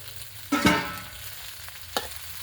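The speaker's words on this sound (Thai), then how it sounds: "ผัดคณะให้ยุบนะครับ" Chinese kale tossed and stirred in a hot pan, with a sharp scraping clatter as the greens go in and a second quick scrape later, over a low steady sizzle of frying.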